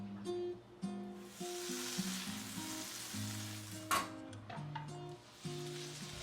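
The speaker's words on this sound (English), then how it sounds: "Heat some oil and a slice of butter." Oil and a slice of butter heating in a frying pan, a soft continuous sizzle with a few light clicks and taps, fairly quiet and without talk.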